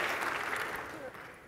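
A conference audience claps steadily in a dense, continuous wash of applause that tapers slightly toward the end.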